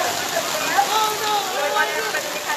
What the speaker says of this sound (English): we know the rain is getting a little harder